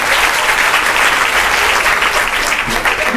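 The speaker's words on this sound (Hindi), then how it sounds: "जोरदार ताली बजाओ।" An audience claps hard for a student called up for a prize at a NEET exam preparation talk. The applause is loud, dense and steady, and it fills the whole stretch without a break.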